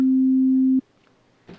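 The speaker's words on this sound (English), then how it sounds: "It's called a sine wave." A basic sine wave tone holds one pure, steady low pitch at strong volume for under a second and then stops dead, leaving a faint background hum and a brief soft noise.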